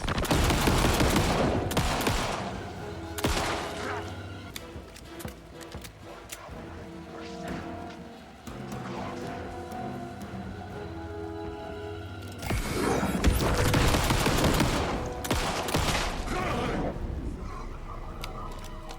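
Gunfire in the survival horror game Alan Wake 2, with repeated loud bursts of shots, separated by quieter stretches of ambient game sound and music.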